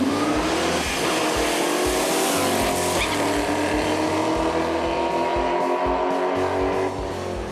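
A 1969 Camaro COPO tribute launches hard on a prepped drag strip, its V8 roaring loud and close as the tires struggle for traction, with a steady rising engine note and brief tire scrub throughout.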